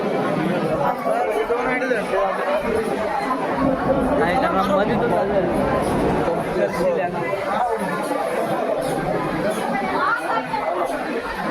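Dense crowd chatter from many overlapping voices fills a busy, packed place, a steady loud babble throughout with a nearby voice speaking briefly over it.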